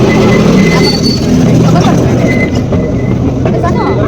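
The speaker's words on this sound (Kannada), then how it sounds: "ಇದೇ ಟ್ರೈನಲ್ಲಿ ಇವಾಗ ನಾವು ಹೋಗ್ಬೇಕು." Busy railway station platform in Mysore with a train standing by, a loud steady rumble of engine and crowd noise throughout, voices chattering nearby over the din.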